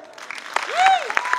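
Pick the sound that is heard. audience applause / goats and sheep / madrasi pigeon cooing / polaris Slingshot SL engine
audience applause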